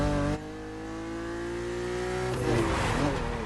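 A BMW car accelerates hard away from a standstill in a braking test, its engine note climbing steadily in pitch through the gears, loud and continuous with no speech.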